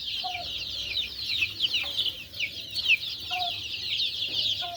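Mountain chicks under heat lamps in Qashqadaryo give repeated short peeps and soft clucks over a steady high chirring background, near and fairly loud.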